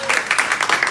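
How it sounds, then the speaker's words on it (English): A round of applause at a town hall meeting in Gibsonville, a crowd's brisk clapping with a fast, uneven patter that stays moderately loud across the brief moment. "Can we get a round of applause?"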